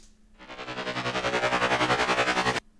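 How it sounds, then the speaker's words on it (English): Heavy guitar production with a tremolo effect, a sustained dense chord pulsing in steady rapid waves for about two seconds, loud and close, then cutting off abruptly. "And then what I also did was this tremolo effect."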